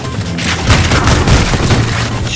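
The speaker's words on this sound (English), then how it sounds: "Those are totally, like, fucking quake grenade bounce sounds" Grenade-launcher grenades from the video game Ion Fury bounce and explode in a dense, loud run of booming blasts and clattering impacts that carry through the whole short burst.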